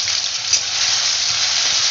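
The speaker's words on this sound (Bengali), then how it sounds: "আলুটাকে এবার ভেজে নেব।" Small diced potatoes fry in hot oil in a home kitchen, giving a loud, even, continuous sizzle with no talking.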